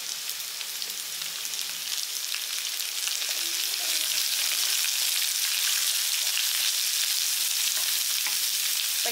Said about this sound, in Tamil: எல்லாமே சேர்த்து வந்து நல்லா வதக்கிடுங்க.